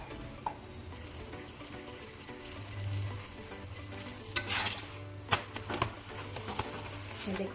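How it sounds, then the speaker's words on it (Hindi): A turnip and fenugreek paratha fries in ghee on a pan, a soft continuous sizzle with occasional scraping and tapping as it is flipped and spread, close by, with no talking. "जैसे घी लगाएंगे एक बार फिर से पलट देंगे पराठे को"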